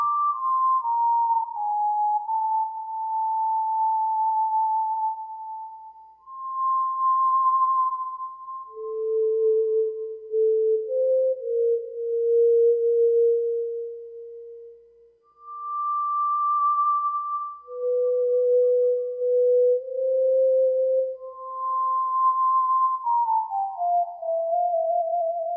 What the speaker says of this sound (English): simple sine wave, where left to right controls pitch and pressure controls volume